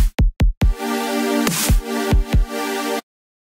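A saw wave synth in Studio One, sidechained to a ghost kick, sounds as a bright sustained chord that ducks rhythmically; three sharp kick-like thumps open it before the pumping pad holds for about three seconds and cuts off cleanly.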